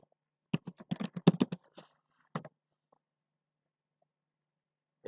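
Someone types a short word on a computer keyboard in a quiet room: a quick cluster of crisp key clicks, then a few isolated taps, followed by silence.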